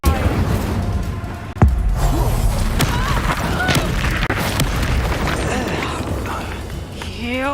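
Incendio fire spell cast during combat in Hogwarts Legacy, a heavy booming burst early on followed by a dense, continuous roar of magical blasts and whooshes, with voices mixed in.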